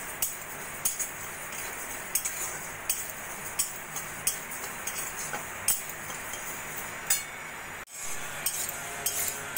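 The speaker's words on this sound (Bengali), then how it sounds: "মুগ ডালটাকে আমি এই 3-4 মিনিট মতো একটু হালকা ভেজে নেব।" Sona mung dal dry-roasting in a hot kadai, with quiet, irregular clinks and scrapes of a utensil stirring the lentils against the metal, a steady faint sizzle-like hiss underneath and no talking.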